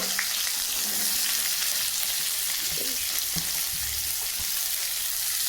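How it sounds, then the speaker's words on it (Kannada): Steady oil sizzling as onions and green chillies fry for tempering with mustard seeds, a continuous crackling hiss with occasional stirring clinks, no voices. "ಇದನ್ನು ಫ್ರೈ ಮಾಡ್ಕೊಳ್ಳೋದ ಇವಾಗ ಈರುಳ್ಳಿ ಫ್ರೈ ಆಗೈತೆ"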